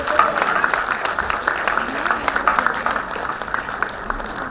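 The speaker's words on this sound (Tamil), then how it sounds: "கரகோஷங்களுக்கிடையே அத்துல்யாவுக்கு" An audience claps steadily at a Tamil society's children's award ceremony, with a continuous patter of hands and a voice faintly audible over the applause.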